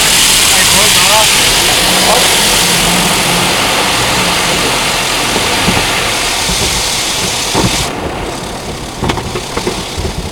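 Automatic car wash machinery running loudly around a car, a roaring, whooshing rush of spraying water and churning equipment, with people talking and a few knocks toward the end.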